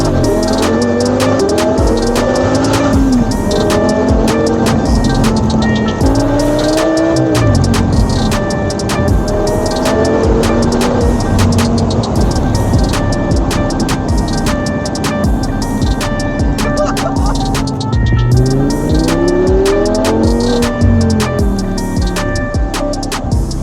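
An Audi R8 GT Spyder on Michelin Pilot Sport 4S and Continental SportContact 6 tyres is driven hard, a loud, constant engine roar heard from the cabin, rising and falling through the gears across the whole stretch.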